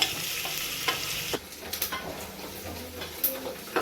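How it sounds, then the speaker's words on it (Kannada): Chopped onions fry and get stirred in a pan for a spiced fenugreek rice breakfast dish, a steady close sizzle broken by spatula scrapes and small clatters. "ಈರುಳ್ಳಿ ಫ್ರೈ ಆಗಿದೆ"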